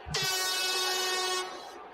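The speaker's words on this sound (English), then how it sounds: "Let's hear the air horns." A loud, sustained air horn blast rings out for over a second in a baseball stadium during a Mets versus Nationals game, bright and brassy, then cuts off, leaving a low background murmur.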